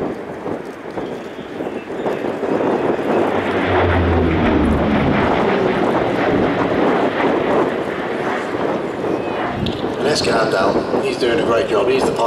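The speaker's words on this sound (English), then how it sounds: "You got a B-38 that's just absolutely hauling." A seven-ton B-38 twin-engine warplane flies a display at the Flying Legends Airshow 2023, its propeller engines roaring loudly and steadily throughout, swelling slightly as it passes close by.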